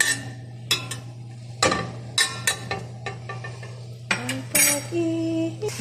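A metal spoon clinks and scrapes against a pan as saluna ingredients are stirred, in irregular close taps over a steady low hum.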